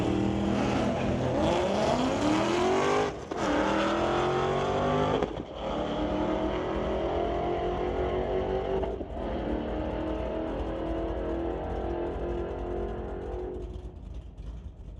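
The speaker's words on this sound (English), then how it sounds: "Jimmy Sousa in the left lane in that 78 Corvette, taking on Paul Gibbs in the right lane in this 2016 Mustang." A 1978 Corvette and a 2016 Mustang launch in a drag race, engines rising through gears with loud revving sweeps and brief breaks between shifts, then fading as the cars pull away down the strip.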